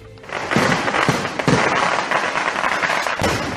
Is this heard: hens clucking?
no